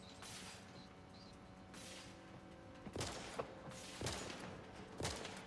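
Gunshots in the sci-fi video game The Outer Worlds: a run of sharp mid-distance shots, several spaced a second apart toward the end, over a steady mechanical background hum.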